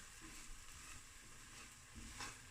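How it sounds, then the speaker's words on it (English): Pieces of boeber ingredients browning in butter in a pan over lowered heat, a steady close sizzle and faint frying hiss with soft stirring scrapes throughout. "now we stir so all the pieces can turn brown"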